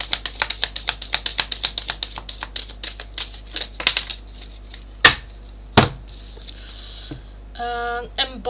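Tarot cards shuffled during a live reading, a long run of quick crisp riffling snaps and taps close up, followed by a couple of louder slaps as the deck is squared, with no talk over it.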